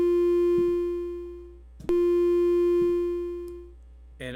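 A Serum software synthesizer plays sustained notes that ring on with a long release, each tone fading slowly after the key lifts, a second note starting midway, a faint click at the end.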